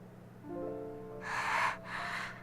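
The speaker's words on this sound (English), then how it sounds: "All I could hear was her pained breathing." Pained, ragged breaths from a female character in the visual novel Chaos;Child, two harsh noisy exhalations heard alone and fairly close over a faint low tonal background.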